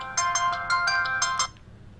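A phone's ringtone plays a repeating electronic melody of rapid bright bursts for about a second and a half, fairly loud and close, then stops, with faint room noise underneath.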